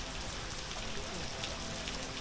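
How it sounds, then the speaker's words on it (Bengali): Steady rain hisses throughout at moderate volume over Ratargul swamp forest in Sylhet during a flood, a continuous wash of noise with no voices. "বৃষ্টি হচ্ছে প্রচুর বৃষ্টি হচ্ছে"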